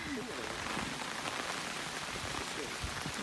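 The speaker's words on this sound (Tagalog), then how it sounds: "Raining." Rain falls steadily in an outdoor setting, a dense, even hiss of drops pattering on surfaces, close and constant, with a faint voice murmuring beneath it.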